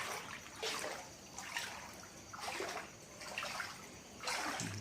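Floodwater draining away from around a house in Lom Sak, Phetchabun, during a September flood, heard as a steady rushing flow with recurring louder surges, fairly close and with no talk.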